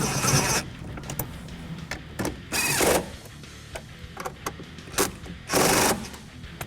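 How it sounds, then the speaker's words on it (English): Bolts being tightened on a GraBars grab handle fitted to a 4-door 2007-2018 Jeep Wrangler, with three loud short bursts of a power tool or ratchet and scattered light metallic clicks and taps between them, all close by. "Fully tighten both bolts."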